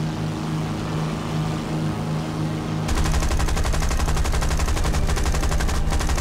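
Rapid automatic gunfire in the vehicle combat game War Thunder, a fast, even rattle of shots that bursts in loud after a low engine drone and keeps hammering steadily to the end.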